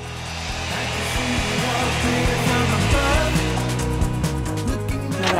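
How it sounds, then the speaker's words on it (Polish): Hair dryer drying hair inside a camper van at a campsite in Morocco, a loud steady whooshing blow with faint shifting tones as it moves, running continuously without talk. "Dobra, włosy wysuszone."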